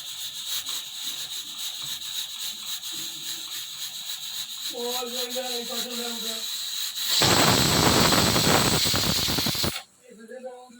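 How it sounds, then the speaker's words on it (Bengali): A pressure cooker on a home stove cooking mutton curry lets out a loud, rushing steam whistle for a few seconds, following quieter kitchen rubbing and a brief tonal hum, then cuts off abruptly. "আমি এখন প্রেশার কুকারে দিয়ে দেব মাত্র দুটো সিটি মারবো বেশি মারবো না"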